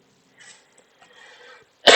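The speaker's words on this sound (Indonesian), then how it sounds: "sebelumnya mohon maaf kalau ada batuk-batuk ya" A single loud cough bursts out at the end from a person who is unwell, after a stretch of near silence with faint low murmuring.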